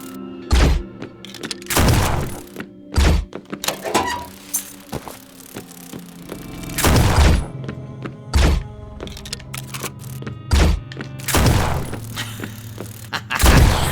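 Shots ring out in a battle in the game Lovecraft's Untold Stories, heavy thuds and booms firing in irregular bursts, close and loud with almost no talk.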